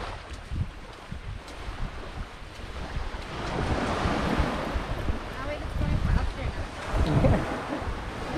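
Sea waves wash onto a Jamaican beach, surging and receding in loud, rolling swells buffeted by heavy wind noise, with rushes building around the middle and end.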